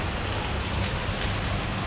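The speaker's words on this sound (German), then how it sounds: "Hier der Regenguss, der schlimmste Regenguss, den wir bisher hatten." A heavy tropical downpour on Koh Tao, Thailand, roars as a dense, unbroken wash of rain at loud, steady level, with no talking.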